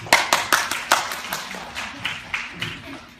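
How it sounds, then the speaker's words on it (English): Scattered clapping from a school Earth Day audience, with a series of sharp, separate claps and short bursts that are fairly close and moderately loud, then thin out toward the end. "Clap if you think I can't do it."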